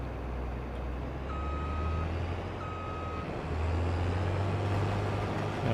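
A tractor in Farming Simulator 22 reverses, sounding two steady electronic beeps about a second apart over a loud, constant diesel engine drone.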